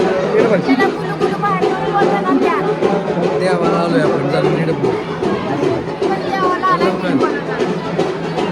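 A packed crowd murmurs at Shree Kalbhairavnath temple in Sonari, a steady close babble of many voices throughout, with a nearby speaker talking over it.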